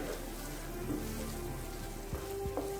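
Sweet potato pieces roast in a pan over a low flame, giving a soft, steady sizzle and crackle with a few faint clicks, quiet and without talk.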